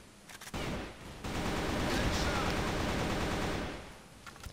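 M16 rifle fire in the video game Crossfire, a brief shot followed by a sustained loud automatic burst lasting a few seconds before cutting off, heard close with no talk over it.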